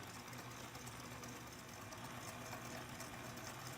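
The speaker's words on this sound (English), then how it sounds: "with my mixer on slowly, I'm going to add my milk, and I'll let that whisking attachment just blend it in gently" A stand mixer's whisk attachment turns slowly, blending milk into an eggnog base, giving a faint, steady motor hum that runs unbroken throughout.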